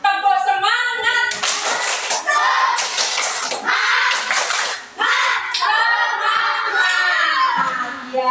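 A primary school class claps together in the rhythmic 'tepuk semangat' chant, bursts of loud unison clapping mixed with children's voices chanting in an indoor classroom.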